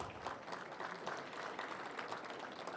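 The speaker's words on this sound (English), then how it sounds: "Give yourselves a round of applause." Steady applause from a large crowd, a dense even patter of clapping heard from a distance.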